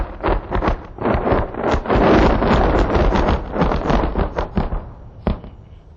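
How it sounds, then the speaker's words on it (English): Artillery laying down covering fire during a Pakistan Army exercise, a loud rapid string of sharp blasts and crackling bursts mixed with wind noise, ending with one last isolated report. "Covering fire now being provided by artillery."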